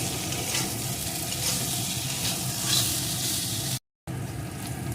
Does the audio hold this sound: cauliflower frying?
yes